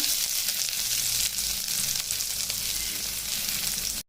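Chopped medium onion added to hot oil with crackling cumin seeds, a dense, even sizzle and spatter that holds steady up close before cutting off abruptly at the end.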